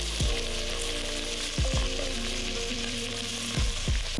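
Andouille sausages browning in grapeseed oil, with a constant loud hiss of frying and a few low knocks as pieces are moved in the pan, near and steady, with no speech.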